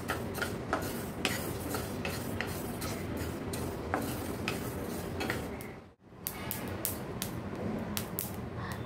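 Flaxseeds roast in a wok, giving close, irregular crackles and tiny pops over a soft scraping stir, with a brief pause partway through.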